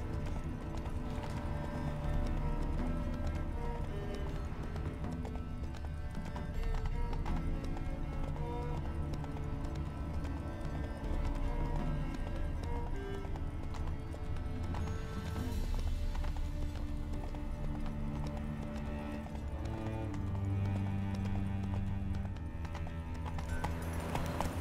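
Hooves of Roach, Geralt's horse in The Witcher 3: Wild Hunt, clip-clopping steadily over a game music score, with a brief whinny and no talk.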